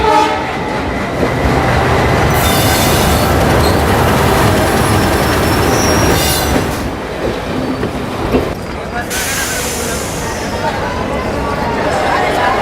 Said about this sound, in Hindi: दिल्ली से आने वाला अपर इंडिया एक्सप्रेस ये निर्धारित समय पर प्लेटफॉर्म नंबर 1 पर आ रहा है।